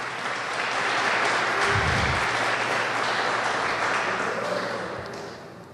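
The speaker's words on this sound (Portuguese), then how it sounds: "Vale uma salva de palmas para Jesus." A church congregation applauding during a morning worship service, broad sustained clapping that rises, stays full and loud for several seconds, then tapers near the end.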